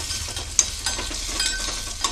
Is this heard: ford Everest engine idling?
no